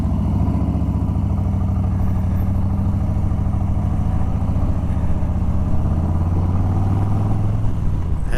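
A 2021 Harley-Davidson Softail Standard big twin engine rumbles steadily at idle and low revs, a deep continuous loping throb held at close range without speech.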